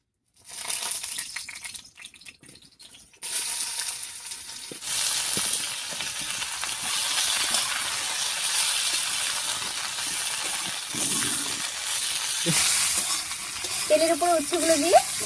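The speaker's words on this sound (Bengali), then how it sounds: "তেলের উপরে উচ্ছেগুলো দিয়ে একটু নাড়িয়ে নিয়েছি" Bitter gourd pieces frying in mustard oil in a kadai, a steady close sizzle with intermittent scraping stir sounds running through most of the clip; a faint voice emerges near the end.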